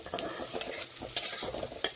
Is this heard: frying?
yes